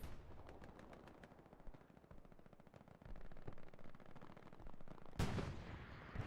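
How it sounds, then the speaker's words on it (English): Artillery and gunfire in the tactical shooter game Hell Let Loose, a run of sharp repeated shots followed by rumbling distant impacts and a loud blast near the end, with no voices. "Ooh, look at that artillery coming in right there."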